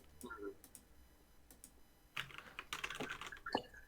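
Computer keyboard typing in short bursts of crisp clicking keystrokes, sparse at first and then a denser flurry, close and moderately loud.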